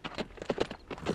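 Hooves of an old, half-blind horse named Jughead clip-clop at a steady walking pace, close by and fairly loud, with no voices.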